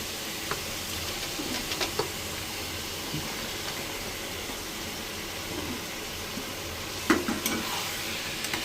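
Mutton frying in a pan with ginger and garlic, a soft, steady sizzle with occasional faint stirring clinks and one sharper tap near the end.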